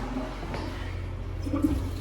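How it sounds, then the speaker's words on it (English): Toilets being flushed repeatedly while a camp's plumbing is winterized, heard as a steady rushing gurgle of water with a louder swirl near the end. "the toilets, you just gotta keep flushing them"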